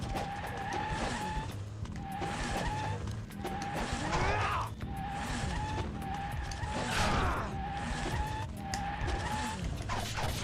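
Revving motorcycles in the Ninja Gaiden Sigma Black video game, engines whining in repeated rising surges with screeching tire-like noises, loud and sustained alongside game music.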